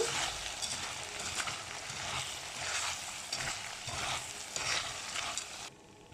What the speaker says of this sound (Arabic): هنا بعد ما خدت اللون الذهبي نزلنا بكيس صلصه ونقلب كويس جدا